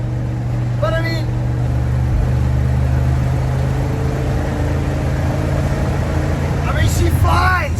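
A 1973 Ford F250 4x4 crew cab with a four-barrel carburetor drives fast in fourth gear, its engine a loud, steady drone under road and wind roar, heard from inside the cab with people talking over it.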